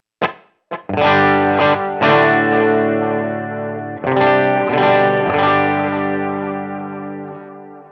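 Electric guitar played through a Line 6 Helix cabinet model with the big reverb removed: a few picked notes, then sustained distorted chords with a chorus-like shimmer, loud and alone with no talking.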